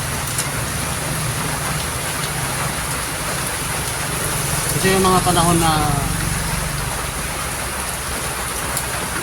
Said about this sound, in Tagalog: Maulan mga idol, maulan.